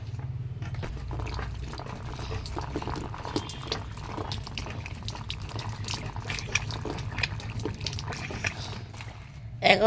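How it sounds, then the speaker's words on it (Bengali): Tap water runs steadily over a handful of vegetables being rinsed in a home kitchen, a continuous splashing trickle close by with a brief clatter at the end. "এই কটা নিলাম কল থেকে একটু ধুয়ে নিই"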